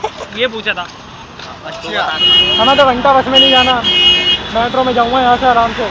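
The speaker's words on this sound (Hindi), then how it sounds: "यहाँ पे ना ये गाड़ियों की चीं पी हो रही है" Vehicle horns honk repeatedly in busy street traffic, loud and close with a patterned electronic warble, as people chat casually over them.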